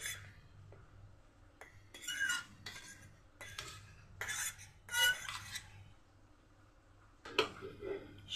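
Chopped coriander, green chilli, onion and oats stirred together in a bowl for an egg-and-oats breakfast: a run of close, bright clinks and scrapes of a utensil against the bowl in irregular bursts, with a soft low hum beneath.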